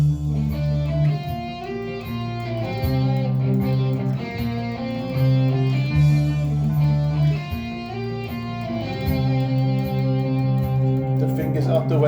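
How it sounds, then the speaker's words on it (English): Distorted electric guitar riff with a second guitar layered underneath, chunky low chords repeating in a steady groove for several seconds. "you're going to hear a second guitar now in the background that I've pre-recorded"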